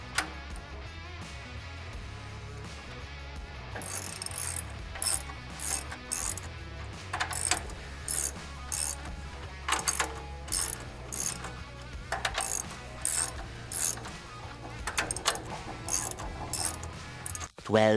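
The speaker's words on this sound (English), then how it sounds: "So I'm just going to tighten them without the torque wrench first in an X pattern." Hand ratchet clicks in short repeated bursts while snugging rear axle U-bolt nuts in a cross pattern on an off-road vehicle, close and fairly loud, with brief pauses between strokes.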